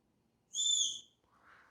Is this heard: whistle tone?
yes